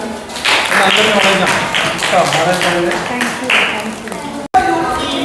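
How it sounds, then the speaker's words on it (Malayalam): Children's audience clapping at an instant World Cup quiz competition: a steady, dense round of applause lasting several seconds, with voices talking over it, then a brief cut before the clapping resumes. "Okay, give A clap."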